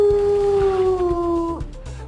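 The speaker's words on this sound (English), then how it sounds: "I'd like to call in and complain about a howling dog." A dog lets out one long, loud howl that slides slowly downward and breaks off near the end, followed by a brief quieter whimper.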